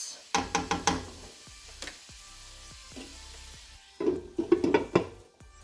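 A pizza burger casserole mixture cooks in a pan with a soft sizzle, broken by clusters of sharp clinks and knocks of a utensil against the pan at the start and end.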